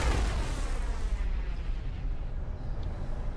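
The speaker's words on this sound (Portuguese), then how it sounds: "que explosão foi essa?" An explosion goes off in the video game Mass Effect Legendary Edition during a fight with pirates, a loud booming burst that fades into a rumbling decay.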